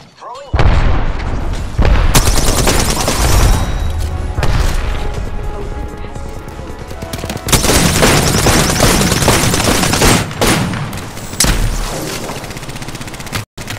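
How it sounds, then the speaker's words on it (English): Heavy gunfire from enemies in the battle royale video game Apex Legends: loud, booming shots and rapid bursts crowd together almost without a break, with a brief lull before the barrage resumes. "The enemies are shooting at me"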